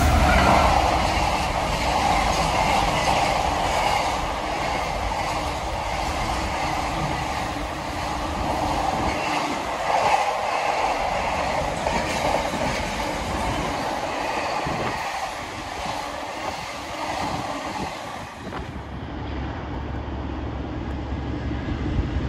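Train hauling units on drag past a trackside spot on the Erewash Valley line, a steady loud rumble of wheels and engine over about twenty seconds before it fades at the end.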